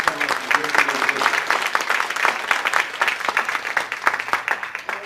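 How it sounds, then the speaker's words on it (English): An audience gives a speaker a round of applause at a business event, steady dense clapping held throughout at moderate distance, with no talk over it. "Give him a round of applause."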